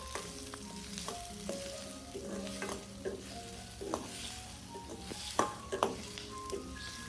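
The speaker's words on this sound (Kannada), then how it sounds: "ಇದು ಟೊಮೆಟೊ ಕೆಚಪ್, ಇದನ್ನು ಹಾಕಿ ಒಂದು ಸತಿ ಕಲಿಸ್ಕೊಳ್ರಿ" A pan of tomato ketchup mixture for gobi manchurian is stirred with a spoon, giving soft scraping strokes and occasional light knocks over a low, continuous sizzle, with no voices.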